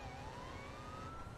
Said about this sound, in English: You see lights and sirens, dude.